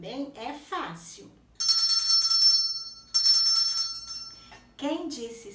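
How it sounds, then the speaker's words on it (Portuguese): A small hand bell is rung in two clear, ringing bursts with shimmering metallic tones, each about a second and a half long; someone talks before and after the bells. "Quem disse sininho"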